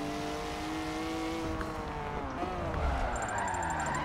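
A BMW M4 tuned with an F7 build drifts in an online racing game, its engine droning in a steady, sustained whine with long tire squeal sliding along underneath, loud and close, with no talk.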